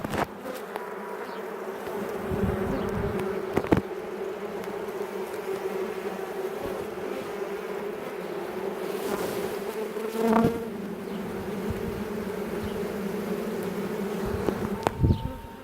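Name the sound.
honey bees buzzing in hive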